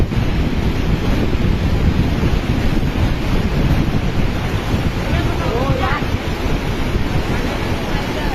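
Strong floodwater flowing at close range: a loud, constant rushing wash with gusty wind buffeting the microphone throughout.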